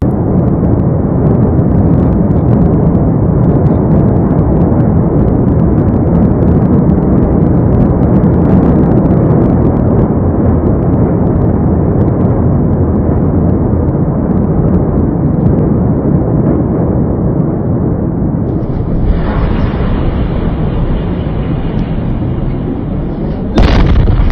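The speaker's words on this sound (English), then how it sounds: "let's watch these little tiny explosions going off, leading up to the big boom" A long stretch of dense, rumbling crackle like many small blasts going off in quick succession during the Beirut port fire, ending in a sudden loud burst of the huge port explosion at the very end.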